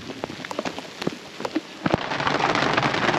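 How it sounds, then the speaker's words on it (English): Heavy rain pours down outdoors around a Jeep, with sharp drops pattering on nearby surfaces before a dense, steady downpour rises to fill the background. "It's raining like crazy."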